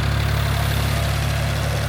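A tractor engine runs steadily with a boom sprayer operating on a rice field, a loud continuous low drone with constant vibration and no change in pitch.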